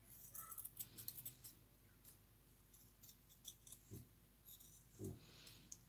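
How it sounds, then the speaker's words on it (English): Scissors snip through paper, cutting circles for handmade flowers, with soft, faint, irregular clicks and crisp cuts spaced across a quiet room, close up and without talk. "So I'm going to cut some circles."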